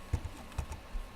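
A few light keystrokes on a computer keyboard, faint and close, a handful of soft taps spaced unevenly while a college name is entered on an application site, no one speaking.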